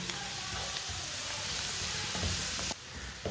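Spices and vegetables sizzle over low heat in a pan, a steady close frying hiss with a few soft stirring knocks near the end and no talking.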